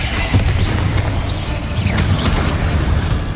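Heavy booms from a Confringo spell explosion in the Hogwarts Legacy video game, a dense, loud, rumbling blast with clattering debris through the whole short stretch and no talking.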